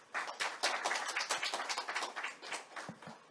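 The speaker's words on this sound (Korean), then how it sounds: "유명한 연구관님께 다시 한 번 더 큰 박수 부탁합니다" Clapping from an audience at a teachers' forum, dense and continuous for over three seconds, with individual claps standing out amid the steady patter and no talk over it.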